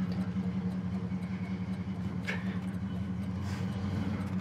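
A 1972 Pontiac LeMans with dual exhaust idles steadily at an outdoor car show, giving a low, even rumble that holds from start to finish with no talk over it.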